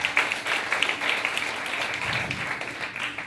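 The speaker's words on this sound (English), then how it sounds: "Clap. Yeah, good clap." An audience at a talk claps together, giving a dense, even burst of applause that holds steady for a few seconds with no voices over it.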